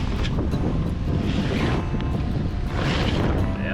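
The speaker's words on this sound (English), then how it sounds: "But yeah, this is good wind." Strong wind rushing past a sailboat off Greenland, a constant loud roar buffeting the microphone, with water and hull noise beneath and no voices.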